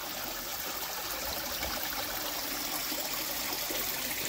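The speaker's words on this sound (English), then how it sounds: "I love running water and water features" Water runs and trickles continuously through a garden koi pond water feature at a homestay entrance in Ubud, Bali. The splashing rush is steady and close, with no voices.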